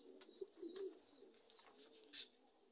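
A racing pigeon of Roger Deel's bloodline coos softly in a few short, repeated calls, with faint chirps nearby.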